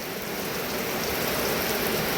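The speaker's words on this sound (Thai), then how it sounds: "แม่นท้องฟ้าครึมๆนิดเดียวฝนตกเลย" Heavy rain pours down outdoors at a house building site where a fence wall is under construction, a dense, loud, unbroken roar of falling water with no speech over it.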